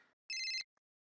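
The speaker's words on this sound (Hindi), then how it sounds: "फोन आ रहा है भाई।" A telephone gives one short electronic ring burst, bright and buzzing, cutting off abruptly, followed by a tiny click, in a quiet room.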